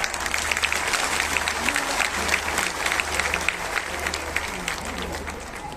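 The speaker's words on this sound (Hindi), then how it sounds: "अतिथियों के लिए जोरदार तालियां हो जाएं" Vigorous applause from a large audience at a government bank credit-outreach ceremony welcoming dignitaries, a close, continuous rattle of many hands with a low hum beneath it.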